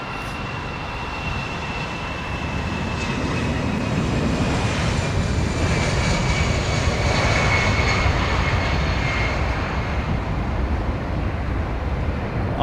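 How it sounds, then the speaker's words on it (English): A small jet airliner with CFM56 engines at London Heathrow Airport gives off a loud, continuous broadband roar for over twelve seconds. The roar swells slightly in the middle with no break and no talk. "CFM 56 engines on a little airframe like that."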